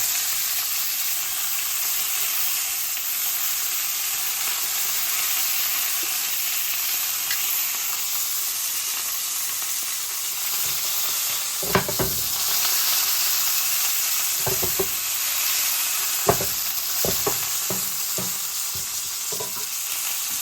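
Pork tenderloin sears in a home-kitchen pan with a steady broad sizzle throughout, broken by a few sharp clicks and scrapes as the meat is turned and nudged.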